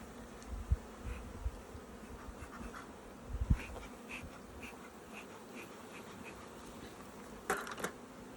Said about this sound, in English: bees on you